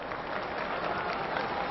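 Audience at a wrestling match applauding, a brief dense burst of steady clapping from a crowd, heard alone.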